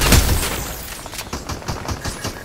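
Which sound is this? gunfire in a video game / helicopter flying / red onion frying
gunfire in a video game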